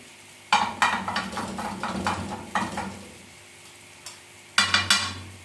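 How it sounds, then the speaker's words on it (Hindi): Dishes, pots and pans being washed by hand at a Pakistani street food stall, with clusters of sharp metallic clatters and knocks separated by short pauses, fairly close and loud, with no talk. "अभी बर्तन ही कर रही हूँ, खुद ही मुझे धोने पड़ेंगे"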